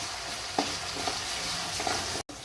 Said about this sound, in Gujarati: આદુ મરચાંની પેસ્ટ એને થોડી વાર સાંતળવા દઈશ